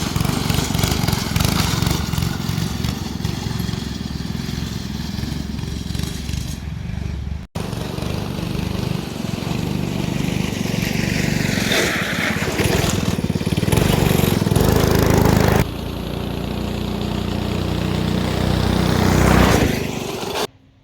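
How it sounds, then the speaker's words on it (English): A Kubota BX2200 subcompact tractor engine runs steadily outdoors at a new house site, a loud continuous diesel drone with shifting tone and a brief break partway through, lasting about twenty seconds without talk. "Got a little subcompact Kubota BX 2200."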